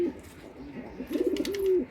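Soft pigeon coos sound close by, a few low throaty calls in a short sequence against a quiet background.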